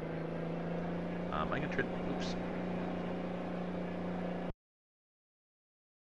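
Mack B62 truck engine in American Truck Simulator, a steady low drone with a strong harmonic hum running under brief talk before cutting off abruptly into silence.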